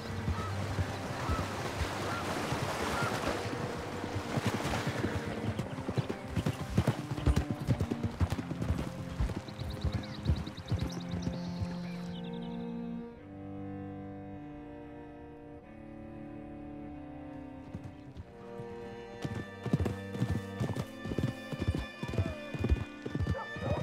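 Horse hooves clip-clop steadily on a trail in the Red Dead Redemption 2 video game, paired with the animal's whinnies, under game music and character dialogue, with one quieter stretch midway before the hoofbeats return.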